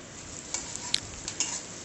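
Onions fry toward golden brown in a pan, a steady close sizzle broken by a few light clicks and scrapes of a spatula stirring, with no voices.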